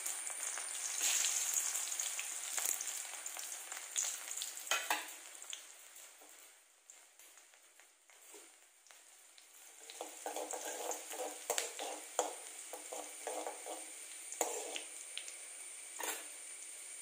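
Chopped small onions frying in hot oil with mustard seeds for a Kerala-style coconut chutney give a continuous close sizzle, with crackling pops and stirring bursts that swell again in the latter half, heard alone with no talking.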